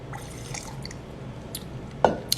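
A few drops of water fall into a glass of Arran single malt whisky, a single clear drip standing out against quiet room tone with no talk.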